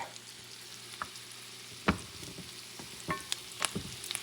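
Salmon sausages cook in a pan with a soft, steady bubbling sizzle, broken by scattered sharp pops and clicks of utensil contact, fairly quiet and close.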